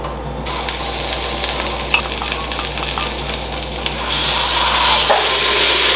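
Portobello mushrooms, gills side down, sizzling on a hot pan or grill: a loud, steady crackling hiss with small pops and clicks that swells louder toward the end, close up with no talking.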